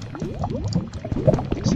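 Lava bubbles and pops in a Minecraft mineshaft, a close, continuous burble of thick gurgling blips with no talking over it.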